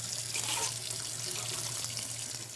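Tap water runs steadily into a sink while BiPAP parts are washed, a continuous, close, full splashing rush with no talk.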